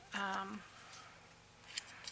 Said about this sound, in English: You can do it with a pair of scissors,